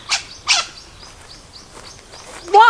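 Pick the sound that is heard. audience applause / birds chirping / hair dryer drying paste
birds chirping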